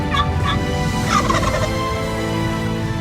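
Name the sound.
wild turkey gobbling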